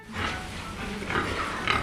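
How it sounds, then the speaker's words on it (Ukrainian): A pig gives low, close grunts that rise and fall in short bursts, with no talking. "Звісно, свинка, вона рохкає."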